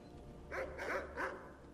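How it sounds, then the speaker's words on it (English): Dogs in the video game Skyrim bark, three short close barks in quick succession over a quiet ambient background. "What's over here? Ah, dogs!"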